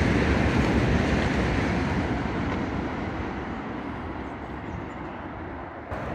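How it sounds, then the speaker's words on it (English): Train rushing past on a viaduct, a broad steady whoosh that starts loud and slowly fades as it moves away, heard from nearby with no voices. "Oh, the train's whooshing!"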